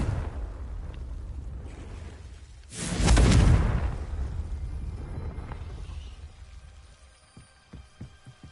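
A Confringo explosion spell in a Harry Potter video game bursts once at full force, a deep booming blast that rumbles and fades over a couple of seconds amid quieter game ambience.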